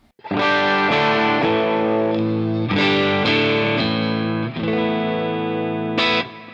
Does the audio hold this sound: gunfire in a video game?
no